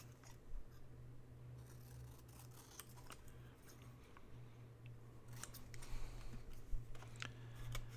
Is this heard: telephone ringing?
no